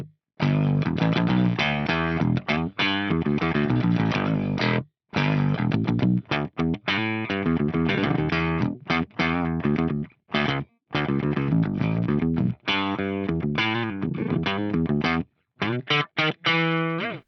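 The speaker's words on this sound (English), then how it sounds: "And now I've got a really funky low octave." Electric guitar played through a Fractal unit's pitch-tracked octave-down effect with a generous high cut, giving a dull, funky low octave riff in choppy bursts with short gaps, alone and fairly loud.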